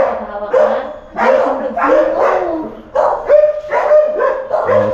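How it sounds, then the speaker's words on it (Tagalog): Several dogs bark near a modular kitchen cabinet job site in San Sebastian, Tarlac City, a loud overlapping string of barks and yips running for several seconds. "Okay, daming aso."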